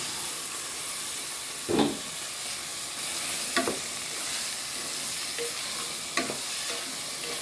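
Mutton pieces with garam masala fry in a hot pan for a Bengali-style tehri, giving a steady sizzle and hiss with a few louder scraping stirs spaced through it, no voices.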